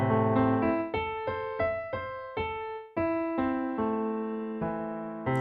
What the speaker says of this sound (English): but if you play it in arpeggio form, it sounds like this.